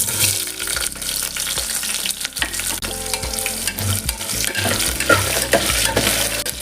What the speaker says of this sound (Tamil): வெங்காயம் நல்லா வதங்கணும், அப்போ தான் டேஸ்ட் நல்லா வரும்